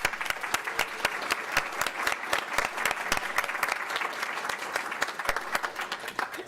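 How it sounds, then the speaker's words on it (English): A school board of education meeting audience breaks into applause, dense continuous clapping from many hands, sustained and even for several seconds. "let's just say congratulations to everyone with a round of applause"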